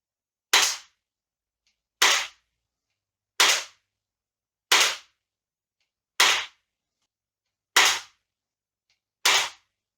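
Crosman 880 lever action airgun fired with open sights and a silencer fitted, seven sharp cracks spaced about one and a half seconds apart, close and loud, with silence between shots.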